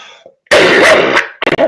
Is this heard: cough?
yes